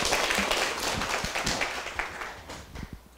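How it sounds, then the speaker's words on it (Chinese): An audience claps to welcome the speaker, a parliamentary speaker, at the start of a class session: steady, moderately loud applause running about three seconds, thinning slightly toward the end. "请掌声欢迎"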